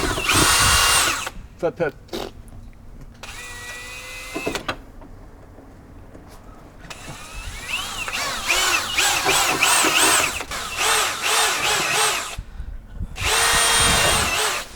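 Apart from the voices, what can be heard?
power drill drilling during car restoration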